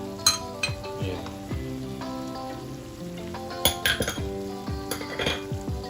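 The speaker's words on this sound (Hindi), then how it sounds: "इसको थोड़ा सा मिक्स कर लेते हैं ऐसे, और इसको भी हल्का सा भून लेते हैं" Carrot halwa with pistachios, raisins and coconut being stirred and roasted in a pan, with a spoon scraping and clinking against the metal over a steady sizzle in repeated strokes, close and fairly loud.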